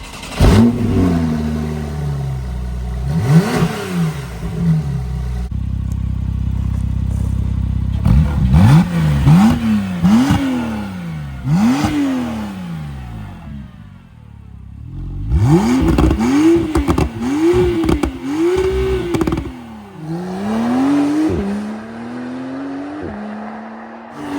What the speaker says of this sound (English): This is your Johnny Cocker Racing titanium valved exhaust in.